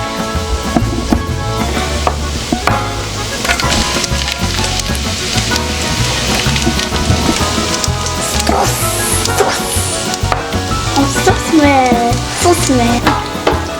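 Garlic hits browned onions in a frying pan and sizzles and crackles steadily and close, with stirring clatter throughout and a brief bit of talk over it.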